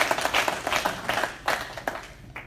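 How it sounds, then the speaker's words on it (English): Church congregation clapping as an offering to the Lord, with irregular clusters of claps at fairly close range that rise and fall in bursts rather than a steady roar. "Give a clap of offering to the Lord."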